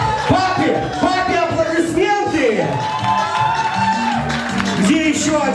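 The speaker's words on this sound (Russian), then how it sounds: "Папе аплодисменты!" Cheering and whooping from an audience at a girls' contest event in Odesa, loud and continuous, with an energetic host shouting over the crowd and music.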